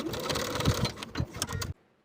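A sewing machine stay stitching vertically along the lower fly of wide-leg pants, running in quick rhythmic bursts of needle clatter for under two seconds, close and clear, then stopping abruptly into silence.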